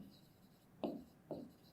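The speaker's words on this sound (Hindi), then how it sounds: "चलिए इसको लिखते हैं" Two short chalk or marker strokes on a classroom board during a Class 6 fractions lesson, each a quick scrape with a brief tail, close and fairly quiet, with no talk.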